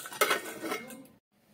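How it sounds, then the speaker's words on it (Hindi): A pressure cooker lid is opened after the steam has been released, giving a brief metallic clatter of pot and lid against each other, fairly close, followed by a short silence. "देखिए, प्रेशर निकल गया है, हम कुकर को खोल देते हैं।"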